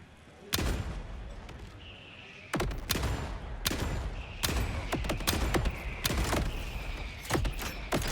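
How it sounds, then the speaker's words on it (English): Jacobs gun projectiles exploding in the video game Borderlands 4, a rapid series of sharp, loud blasts and bursts, some in quick clusters, over a faint background hum. "Projectiles float upward and spawn child projectiles after exploding"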